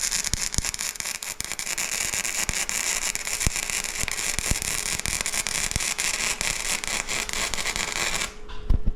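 Dense, continuous crackling and sizzling with sharp pops scattered throughout, loud and close, as uncleaned galvanized metal spits while it burns.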